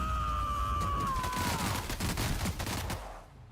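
Dense, continuous gunfire from a firefight in the sci-fi video game The Outer Worlds, with a rapid string of shots over a steady loud background. A brief falling whine rings out near the start.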